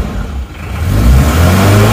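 An Isuzu Panther 2.3 engine roars at high revs with a stuck throttle, a loud, sustained mid-range drone that dips briefly and then holds steady and strong.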